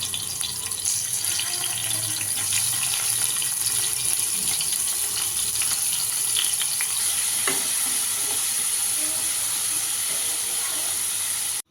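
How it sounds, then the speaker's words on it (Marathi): Paneer fries in oil in a kadhai with a loud, continuous close-up sizzle and crackle, joined by faint stirring scrapes throughout. "त्यामुळे मग मी यातच पनीर तळते"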